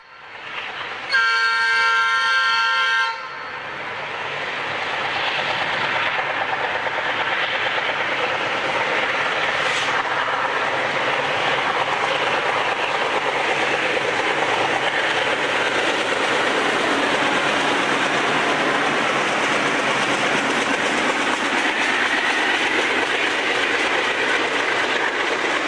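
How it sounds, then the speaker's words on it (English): A GE B23-7 four-axle diesel locomotive, number 4023, leads a local freight train on a Norfolk Southern main line in central South Carolina; a loud horn blast opens, then the engine roar and wheel clatter build and rumble past steadily, close by. "4023 leading a local freight train through central South Carolina"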